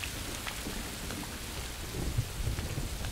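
Steady rain pours in the survival game Rising World, a dense constant hiss with low thunder rumbles swelling near the end, no voices.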